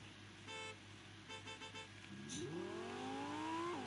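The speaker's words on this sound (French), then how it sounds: "petit klaxon, noté sur 10." A car horn honks in short repeated bursts over a steady engine drone in the video game Fortnite, then the engine revs up with a rising whine.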